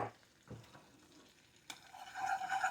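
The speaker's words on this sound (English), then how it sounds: "I'm going to stir that up. Try not to let your butter burn." Flour being stirred into melted butter in a pan for homemade macaroni and cheese, making a quiet sizzle with a few soft scraping strokes of a spoon, growing slightly louder toward the end.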